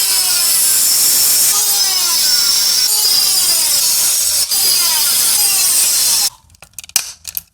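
A small cutting disc grinds through a fibreglass part with a loud, steady high-pitched whine and shifting rasp for about six seconds, then cuts off, leaving a few faint clicks and knocks.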